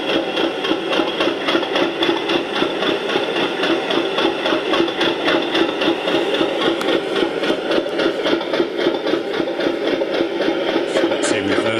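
A model Class 50 diesel locomotive warming up gives a steady, loud engine drone with a fast, even mechanical throb and whine running unbroken throughout, close by.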